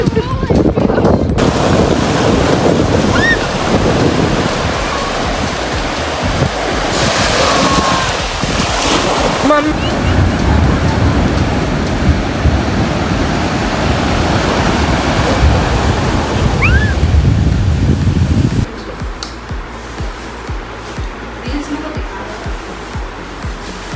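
Ocean surf rolling and breaking on Varkala beach in Kerala, a steady broadband wash with wind buffeting the microphone, loud and close, easing to a quieter hiss near the end.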